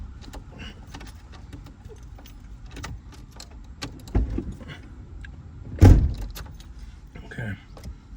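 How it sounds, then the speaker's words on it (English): Inside a van as the engine is switched off, keys jangle with soft clicks and a couple of louder thumps, and a person speaks quietly in the background. "I gotta turn the engine off."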